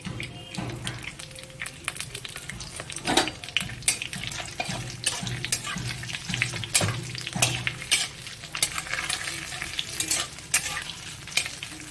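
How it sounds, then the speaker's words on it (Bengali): Cumin seeds and bay leaves crackle in hot oil after fish heads were fried, with a steady sizzle broken by sharp stirring scrapes and spits throughout, close and moderately loud, no talking. "এই তেলের ভেতরে আমি জিরে আর তেজপাতা ফোড়ন দিলাম।"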